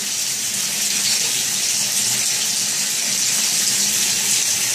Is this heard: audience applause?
no